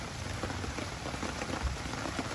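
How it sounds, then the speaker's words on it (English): Heavy rain pours steadily onto a wilderness campsite during an overnight backpacking trip, a dense, even hiss of drops hitting surfaces close by with no talking. "The rain has just not stopped. In fact, I think it's getting harder"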